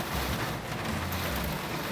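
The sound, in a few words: storm with rain outside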